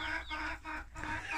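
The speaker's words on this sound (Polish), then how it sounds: "z kugutem Brahmy na czele, który jest bardzo, bardzo łagodną kurą, kogutem" Brahma rooster and hens clucking close by in a backyard flock, a continuous busy murmur of overlapping clucks and soft calls with no talking.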